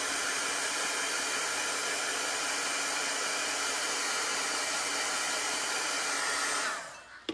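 A hair dryer blows continuously and loudly at close range over wet green chalk paste, a steady broadband rush that cuts off near the end.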